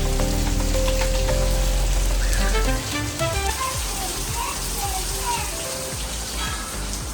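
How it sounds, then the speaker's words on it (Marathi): Heavy rain pours down steadily, with a dense hiss throughout and occasional clatters and knocks nearby, plus faint voices in the background. "भयंकर पाऊस होतो बघा."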